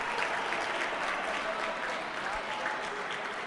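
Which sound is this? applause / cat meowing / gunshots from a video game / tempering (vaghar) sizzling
applause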